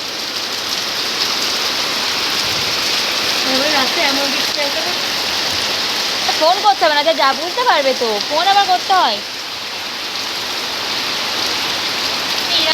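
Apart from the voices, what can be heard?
rain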